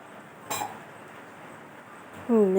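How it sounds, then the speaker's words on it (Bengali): A metal tea pot is set onto a lit gas stove with one close, crisp clink over a quiet hiss. A voice briefly speaks near the end. "চা বসিয়ে দিচ্ছি গ্যাসটা জ্বালিয়ে দিলাম"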